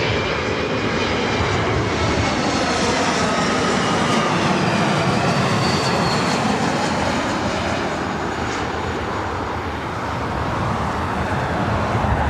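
A Delta Connection Embraer E175 jet arrives at LAX with a loud, continuous roar of engines and airflow that stays strong and broad throughout, no voices over it.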